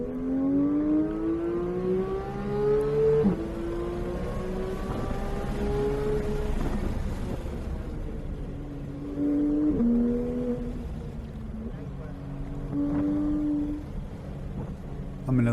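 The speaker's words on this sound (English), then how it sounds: "Get all the way out there under full throttle and ride that whole straightaway." A race car engine held at full throttle down a long straightaway in a racing video game at Spring Mountain, Charleston Peak, droning steadily with pitch rising and dropping through gear changes, loud and continuous throughout.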